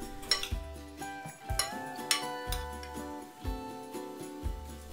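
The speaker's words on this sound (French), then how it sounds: "Bien mélanger l'ensemble." A spoon stirs toasted sesame seeds, grated ginger and rice vinegar in a bowl, giving repeated close clinks and taps against the dish in an uneven rhythm, with no talking.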